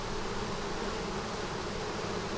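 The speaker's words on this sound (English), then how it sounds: "Saw a little bee." A small bee buzzes steadily near a feeder, close to the microphone, as a continuous insect drone with no other sound.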